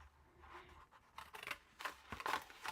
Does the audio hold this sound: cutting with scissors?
yes